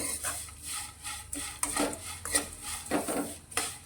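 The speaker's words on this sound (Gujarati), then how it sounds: "અને એકવાર સારી રીતે મિક્સ કરીશું." A spoon scrapes and stirs mango kernel mouth freshener with black salt powder around a pan in quick, uneven strokes, rasping against the surface close up with no talking.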